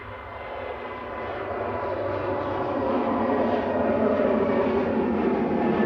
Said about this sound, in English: Lufthansa departing to Frankfurt. Flight 949. This is an A320neo